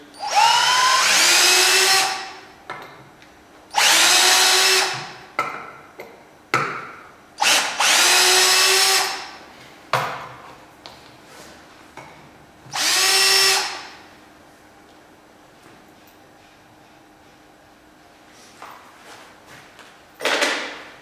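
A power drill or driver backs screws out of a woodturning lathe in short whirring bursts, about seven separate loud runs with pauses between them, close and clear, ending in quiet with faint handling.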